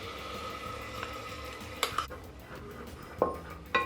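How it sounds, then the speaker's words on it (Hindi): Onion puree sautéing in warm oil in a pan for chole masala, a soft, low sizzle broken by a few sharp clinks and scrapes of a spoon against the metal. "तेल हमारा हल्का गर्म हो जाए तब हम उसमें अपनी प्याज की प्यूरी डालेंगे।"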